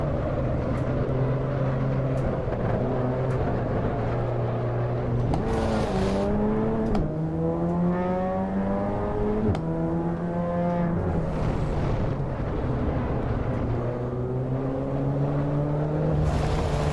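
Race car engine in the Assetto Corsa Evo racing game, loud and close throughout, with rising harmonic sweeps as it revs up through the gears, brief drops at shifts and lifts, then climbing again.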